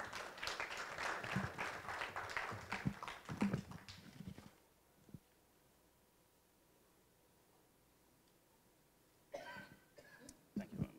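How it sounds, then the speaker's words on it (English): An audience at a Uganda-Canada business expo breaks into applause lasting about four seconds, fairly loud at first, then fading to near silence before a second short burst of clapping near the end. "Let's give him a round of applause."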